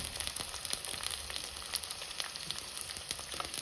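Onions sizzling in a pan of frying fish, a steady close crackle and hiss with small popping bursts throughout, no voices.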